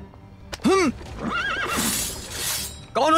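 A frightened horse whinnies in sharp, high neighing bursts with hoof clatter between them, close and loud amid background commotion.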